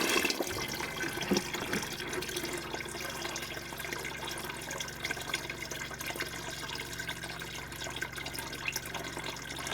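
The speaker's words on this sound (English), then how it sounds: "I'm just going to fill this up most of the rest of the way with cold water" Cold water runs steadily from a tap into a container at a home sink, a continuous close rushing and splashing that lasts the whole time without pause or speech.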